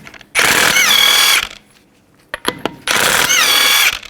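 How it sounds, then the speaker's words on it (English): A power tool spins lug nuts off a Nissan Maxima wheel in two loud, close bursts about a second long each, its pitch sliding as it winds up. Brief clanks of loose parts fall in the quiet gap between the bursts. "Take the lug nuts off."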